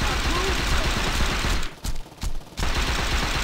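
Sustained burst of gunfire in the video game GTA, loud and dense through most of the stretch, dropping out briefly in the middle before resuming, with a voice speaking underneath.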